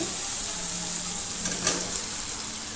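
Soybeans and fried potatoes go into a pan of sizzling spice paste with oil, producing a bright continuous hiss, with one soft thump of the ingredients dropping in midway, close and without talking.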